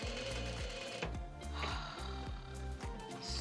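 JUKI DDL 8700 industrial sewing machine stitching at its longest stitch length, a smooth, fast, rhythmic thumping run heard close and steady for a few seconds.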